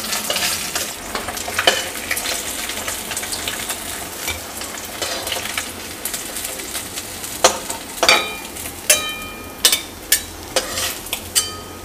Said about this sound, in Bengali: মাছটাকে আগে ভেজে নেব ভালো করে।